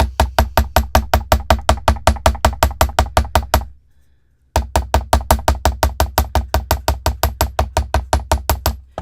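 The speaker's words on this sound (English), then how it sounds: "I'm going to hammer this side." A hammer taps rapidly and steadily on a piece of bead jewelry, sharp close metallic strikes in an even rhythm, pausing briefly before the same fast hammering resumes.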